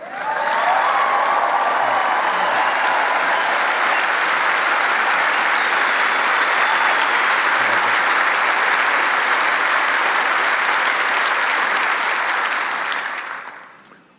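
Sustained, loud applause from a large audience at a political rally, continuing steadily for about thirteen seconds before tapering off at the end.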